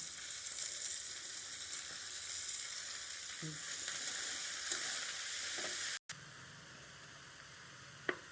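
Pumpkin leaves frying in tempered oil, a loud dense sizzle with occasional stirring scrapes, briefly cut off before resuming more quietly, close and without talk.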